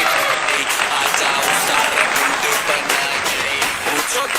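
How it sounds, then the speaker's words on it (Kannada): A crowd claps at a kids' annual function, a dense, loud, continuous wash of applause that holds steady from start to finish. "ಬರ್ಲಿ ಚಪ್ಪಾಳೆ."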